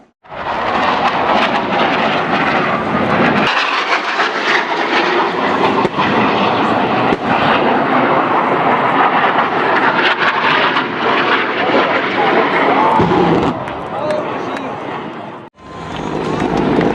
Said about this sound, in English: UH-1 Yankee Huey aircraft inserting Marines via fast rope, and AH-1 Whiskey and Zulu Cobras providing cover for the MV-22 Osprey tilt rotor